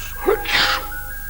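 Nounours, a puppet bear, lets out a single loud sneeze, a quick rising intake followed by a bright burst, heard up close.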